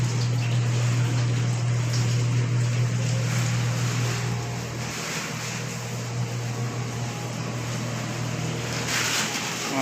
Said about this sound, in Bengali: যে এটা হলো ম্যারিনেট মেশিন